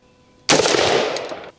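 A single gunshot fired at a shooting range, loud and close, with a sharp onset and a ringing blast that lingers for about a second before cutting off.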